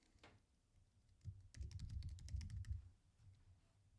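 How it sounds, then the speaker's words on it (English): Keys on a computer keyboard are tapped in a quick, quiet burst of clicks that runs for about a second and a half over a faint background hum, with no voices. "let's just type it in"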